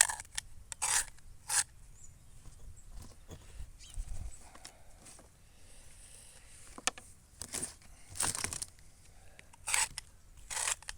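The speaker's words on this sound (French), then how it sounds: "Toujours gratter pour favoriser l'enracinement." Kiwi (actinidia) cuttings are scraped with a blade, giving short, faint rasping strokes in scattered bursts against a quiet background.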